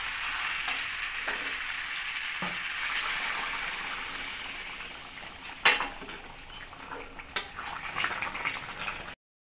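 Chicken with potatoes and green chillies is stir-fried in a pan, a steady bubbling sizzle broken by a few sharp stirring knocks and scrapes near the end, close and with no speech.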